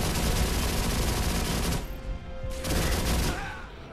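Rapid bursts of video game gunfire crackle continuously, including sniper rifle shots, with a brief lull partway through before the shooting resumes; loud and busy.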